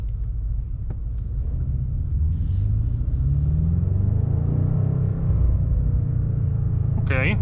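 A BMW M5 G90 sedan with its 727 hp V8 hybrid drivetrain gives a deep, steady exhaust rumble from the rear, droning continuously throughout, with a brief higher rev flare at the very end and no talk over it.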